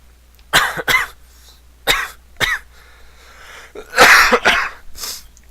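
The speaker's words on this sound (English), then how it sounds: "Bring on the dying coughing." Several harsh, rasping coughs come in bursts, close and loud, with short pauses between them and a heavy fit of coughing toward the end.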